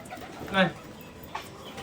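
A single short coo from a large pigeon rises briefly near the middle, close and soft, with faint background noise around it.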